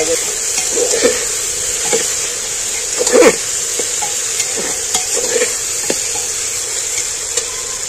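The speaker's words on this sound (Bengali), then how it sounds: "রসুনটা দিয়ে এবার আমি একটু নাড়াচাড়া করে নিচ্ছি" Half-ground garlic paste stirred into frying onions in a pan while cooking mutton: a steady oily sizzle broken by repeated scraping and clinking strokes of a spoon, one louder scrape in the middle.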